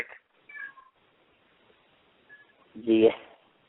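A kitten gives a few short, faint meows over a quiet background and then one louder, longer meow near the end.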